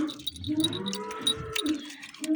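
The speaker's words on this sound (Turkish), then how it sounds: "Arkadan ineklerin sesleri geliyor arkadaşlar." Several cows mooing in the distance, low drawn-out calls overlapping, with some faint bird chirps and a voice nearby.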